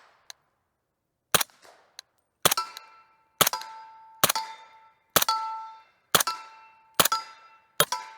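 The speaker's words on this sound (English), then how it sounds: "can I point and just shoot a couple from the hip like this" Suppressed SIG Sauer Rattler LT rifle fired from the hip outdoors: a couple of faint clicks, then about eight loud, sharp, cracking shots with ringing tails, spaced roughly a second apart.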